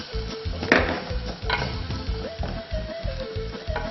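A creamy sauce stirred in a pan, with a soft bubbling sizzle beneath regular spoon scrapes and taps against the pan, close and moderately loud, with no talking.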